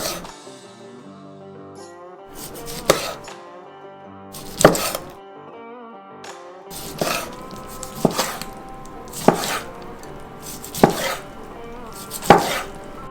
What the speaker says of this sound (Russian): Нарезаем его на кусочки.